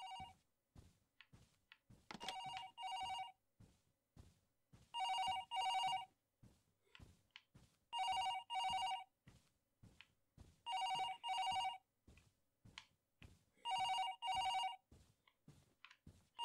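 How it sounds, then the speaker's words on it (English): A telephone bell rings in the Paranormal HK video game, five separate bursts of double rings spaced a few seconds apart. Quieter game ambience and footsteps fill the gaps. "answer that godforsaken phone, wherever the hell it is."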